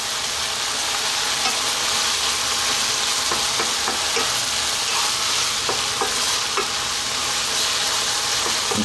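Ground beef stir-frying with a splash of sesame oil in a pan, giving a steady, loud, broadband sizzle throughout, with occasional scraping clicks from stirring and no voices.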